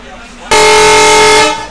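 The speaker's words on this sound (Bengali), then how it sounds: "আর ট্রেনের হুইসেল কিন্তু হয়ে গেছে" The Mongla commuter train sounds a single loud, sustained horn-like whistle that starts abruptly, holds for about a second and then tapers off, close by, with a low background murmur before it.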